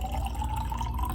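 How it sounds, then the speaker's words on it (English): Cold water is poured into a jar, a steady close trickle with a rising filling tone throughout. "I'm going to take my cold water and fill up my jar"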